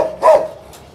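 One sharp dog bark rings out close by on a dairy farm where newly arrived dairy cows are being introduced, followed by a brief faint tail of sound.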